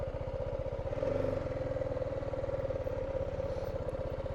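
Several motorcycles idle and rumble nearby on a roadside stop in Kazakhstan, a steady low engine drone with a brief louder rev partway through, no talking.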